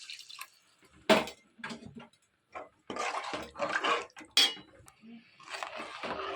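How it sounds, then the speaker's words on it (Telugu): Water poured into a pan of frying fish curry masala makes intermittent splashing and sputtering bursts, with occasional utensil clinks between short quiet gaps and no talking. "ఇలా ఇవన్నీ ఫ్రై అయిపోయిన తర్వాత ఇందులో కొద్దిగా వాటర్ పోసుకోవాలి"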